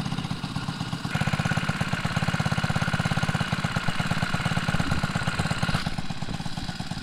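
A 4-stroke motorized bike engine, fitted to a Walmart bike frame, runs steadily at close range with a fast, even putter that picks up slightly, with no talking, on a cold 35-degree day.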